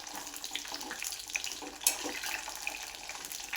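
Brinjal pieces frying in oil make a soft, steady hiss and crackle with a faint pop or two. The sound is quiet and close, with no voices.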